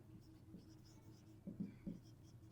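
A pen writes numbers on paper in soft scratching strokes, a few short bursts close by against a quiet room background.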